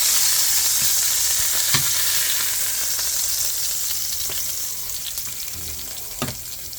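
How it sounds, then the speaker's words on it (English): Onions and mushrooms sautéing in a one-pot chicken and rice dish while the pan is deglazed, a loud steady sizzle with occasional spoon scrapes, close up and free of talk. "we've been deglazing, and we're doing a pretty good job. The onions are in there, the mushrooms are in there"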